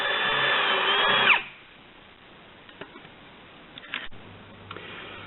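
A drill spinning a wire wheel against an aluminium sliding door track whirs loudly for about a second, then cuts out, leaving faint clicks and small knocks.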